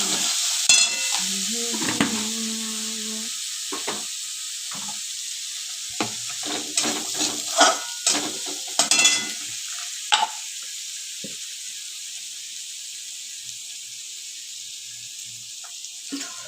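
Ginger, garlic and onion paste with turmeric, cumin and chilli powder sizzles steadily in a pan, with intermittent scraping and stirring strokes of a spatula, close and fairly loud, no talk.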